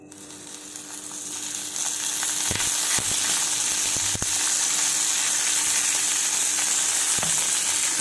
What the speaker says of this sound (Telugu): ఇవి బాగా ఫ్రై అయ్యే వరకు వేపుకోవాలి కదా